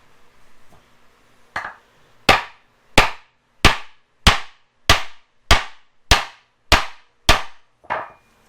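A steel hammer striking an impact socket on the tensioner pulley of a Land Cruiser 100 series, about eleven loud sharp metallic blows in an even rhythm, roughly two per second.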